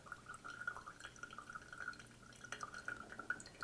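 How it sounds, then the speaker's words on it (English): Water dripping steadily through a pre-filter into a container, a quick run of small, quiet drips and trickles with a faint background hum. "But boy, that is filtering a lot more quickly than it did earlier."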